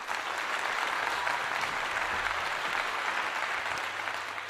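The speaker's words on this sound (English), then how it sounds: "This is the brother that I give a clap to." A crowd applauds steadily and densely throughout, a continuous wash of clapping with no pauses, as a San Francisco board council member is welcomed at a public gathering.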